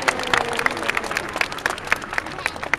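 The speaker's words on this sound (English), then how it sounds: "Lots and lots of applause." Scattered clapping with some crowd noise from spectators at a sea lion show at Atlantis aquarium, individual hand claps standing out in an uneven rhythm.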